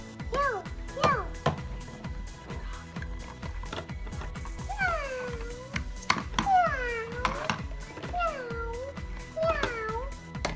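Meowing from a Fisher-Price Animal Rescue toy cat, a series of short repeated electronic-sounding meows with pitch slides over clicks and rattles of handling, close and moderately loud.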